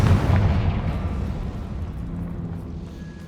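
A Confringo spell blast from the Hogwarts Legacy game erupts in a loud, booming burst that rumbles and slowly fades over a few seconds.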